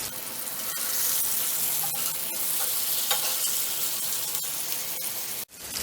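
Tandoori chicken pieces fry on a stovetop pan over a medium flame, giving a steady, close sizzle with light stirring and scraping throughout and a brief dip near the end.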